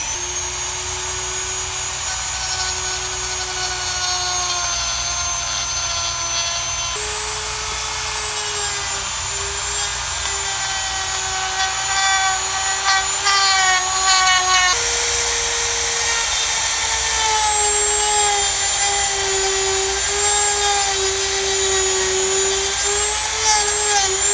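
A Dremel rotary tool with a 0.875 inch cutting wheel cuts motorcycle plastic, giving a loud, steady high-pitched whine whose pitch shifts slightly between passes and goes on for the whole stretch without talk.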